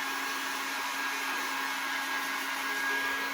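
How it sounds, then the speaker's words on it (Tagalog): A low-powered hair dryer blows steadily at close range onto corn, a continuous airy whoosh with a thin whine, no talking. "tutuyuin ko na siya gamit yung blower"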